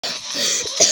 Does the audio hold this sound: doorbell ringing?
no